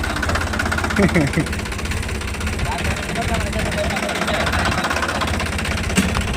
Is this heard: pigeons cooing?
no